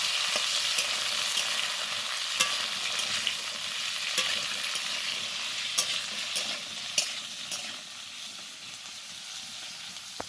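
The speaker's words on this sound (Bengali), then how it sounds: "তেল গরম হয়ে গেছে, এবার দিয়ে দিচ্ছি কেটে রাখা আলুগুলো" Diced potatoes fry in hot oil with a continuous bright sizzling hiss, broken by occasional sharp taps and scrapes of a spoon against the pan, close and steady without any voices.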